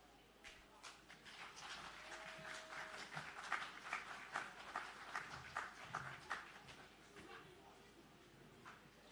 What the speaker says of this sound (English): Join me in once again applauding the performers from Petersfield High School.